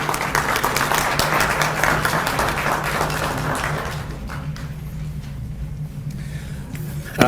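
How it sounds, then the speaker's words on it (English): A public engagement audience in Valemount, BC applauds the Robson Valley Spay and Neuter Society, a moderate wash of clapping from a smallish crowd that thins and tapers off over several seconds. "big thanks and round of applause for the Robson Valley Spay and Neuter Society then"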